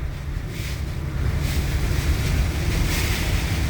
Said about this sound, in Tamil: எவ்வளோ மழை பாருங்கள், ரோடே தெரிலங்க.